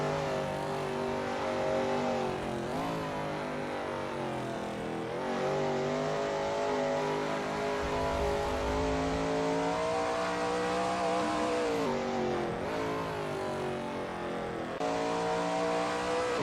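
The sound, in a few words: Shelby Mustang GT350R engine on a racing lap at Goodwood, from a video game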